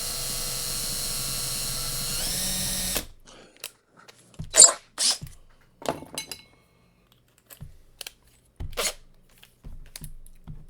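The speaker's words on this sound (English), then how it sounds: "Put that on drill instead of screw." A power drill whirs steadily for a few seconds and stops, followed by scattered clicks and light clatter.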